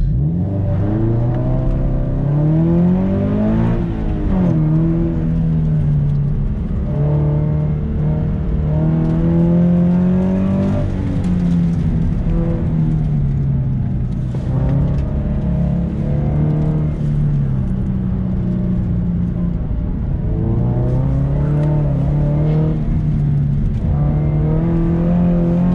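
A Subaru BRZ accelerates hard through an autocross run, its engine revving up and down in repeated surges as it shifts and carves the course, loud and close throughout with no talking.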